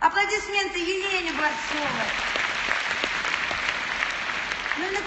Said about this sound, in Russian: Аплодисменты Елене